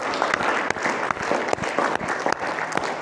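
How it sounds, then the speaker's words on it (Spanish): A worshipping congregation gives a dense, loud round of applause for the Lord during a healing service, continuous clapping filling the room with scattered sharper hits. "Vamos a un aplauso al Señor."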